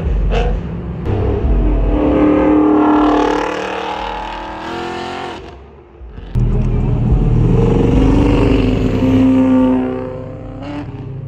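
A Ford Mustang Mach 1 engine revs loudly and close at a beach car gathering, two long deep rumbling surges separated by a brief dip, with other car noise around.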